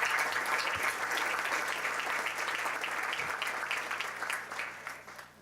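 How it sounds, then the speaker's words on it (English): A room of people applauding new city council members at an agricultural hall of fame event, moderately distant clapping that holds steady and slowly tapers off over about five seconds. "Let's give them a round of applause."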